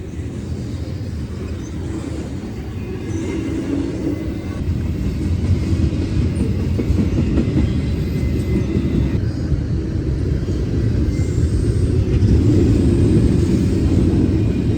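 Union Pacific Big Boy 4014 steam locomotive on an excursion run rolls past with a steady, loud rumble of heavy wheels and cars that builds slightly and holds throughout, with no voices.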